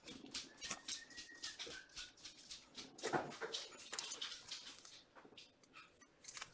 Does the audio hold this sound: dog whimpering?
yes